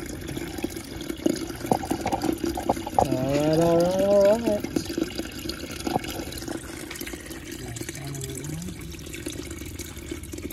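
Water gushes from a hose aimed straight down into the end of a drain line, a steady rushing and splashing that runs throughout, with a short spoken remark partway through and a brief wavering sound mixed in.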